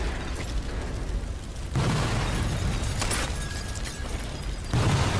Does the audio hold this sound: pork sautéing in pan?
no